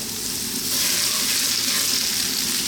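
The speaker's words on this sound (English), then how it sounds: "the oil's been reduced, it's nice and hot. Let's start off by dropping in our ginger" Ginger and garlic hit hot, reduced oil for a Chinese sweet and spicy fish dish, giving a loud, steady broadband sizzle that swells slightly after the first moment and holds without a break, with no talking.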